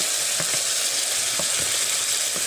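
Ginger garlic paste, tomato and onion fry in a pan for an Assamese potato and squash dish, giving a steady, close sizzle with faint stirring scrapes and no talk.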